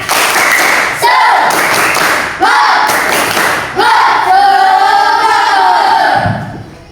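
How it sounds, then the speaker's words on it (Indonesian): A group performs the Indonesian tepuk semangat clap chant, loud chanting voices punctuated by bursts of rhythmic clapping in several rounds, close and energetic. "Ayo kita tepuk semangat dulu ya"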